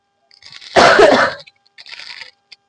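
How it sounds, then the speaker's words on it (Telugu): One person coughs a single harsh, loud burst up close, followed by a softer rasping breath and a faint click. "మీ దగ్గదా?"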